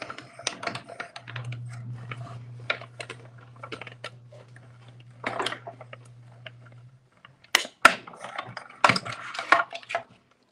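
A paper craft die cutting machine runs pieces through, with a steady low mechanical hum for several seconds amid close clicks, taps and rattling handling noises.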